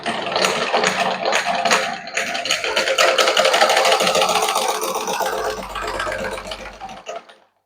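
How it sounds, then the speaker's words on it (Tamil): A sewing machine stitches a straight seam along a neckline's center line, running steadily and close with a fast whirring needle rhythm before slowing and stopping near the end. "அந்த நடுக்கோட்டில் நேராக ஒரு தையல் போட்டுக்கொள்ளணும்"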